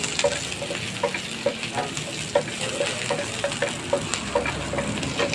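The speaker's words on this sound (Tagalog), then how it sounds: "Try natin lutuan yung bago kong kawali." Food sizzling and frying in a new kawali, with steady crackling and the rhythmic scrape and tap of a utensil stirring against the pan, close and continuous.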